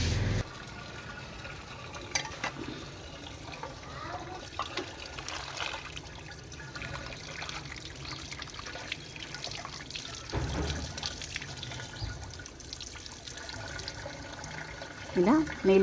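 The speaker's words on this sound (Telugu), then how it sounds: "ఇలా నీళ్ళు పోసుకుంటూ మెల్లగా కడిగేసుకోవాలి" Watermelon seeds washed under poured water, a quiet, steady trickle and dribble with occasional drips and splashes, close by, with faint speech now and then.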